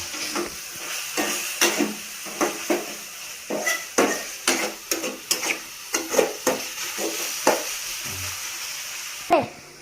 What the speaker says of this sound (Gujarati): હવે થોડી વાર એને હલાવી લેવાનું